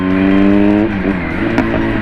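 A Kawasaki Z900 motorcycle engine runs close and loud with a steady high rev, then drops off as the throttle closes, leaving a rougher, burbling engine-braking note.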